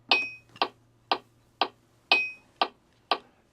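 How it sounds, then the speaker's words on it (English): A metronome gives seven crisp, evenly spaced ticks about half a second apart, close and clear over a faint low hum. "This is a metronome, and it'll keep the time."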